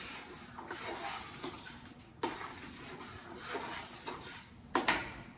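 Vegetables for a lentil and black-eyed pea soup stock are stirred together in a pot, giving a steady scraping swish with a few sharper clanks against the pot near and fairly loud.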